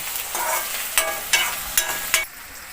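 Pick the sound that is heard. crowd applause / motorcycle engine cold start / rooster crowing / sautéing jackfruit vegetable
sautéing jackfruit vegetable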